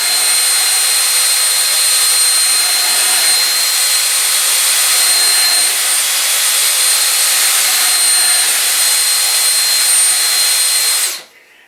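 Steady high-pitched whine of a hand-held drill spinning a portable spindle sander, loud and unbroken for about eleven seconds before abruptly cutting off at the end.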